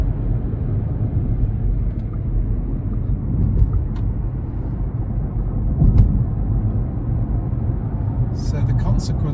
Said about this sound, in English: the tyre roar is noticeable.